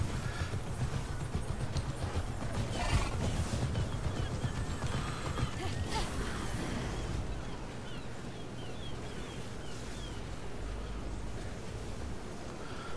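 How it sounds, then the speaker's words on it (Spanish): A horse gallops in the video game Immortals Fenyx Rising, its steady, rhythmic hoofbeats running fast and continuous over a busy game soundscape. "iremos con el caballito"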